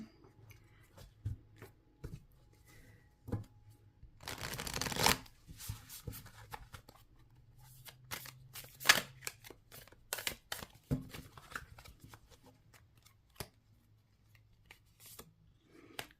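Tarot cards are shuffled on a table, soft riffling and sliding with a few louder bursts of shuffling, close and fairly quiet, with light taps and rustles in between.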